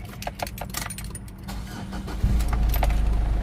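Keys rattle and click, then the 3.0-litre engine of a 2010 Ford Everest cranks and catches, settling into a steady, close idle rumble.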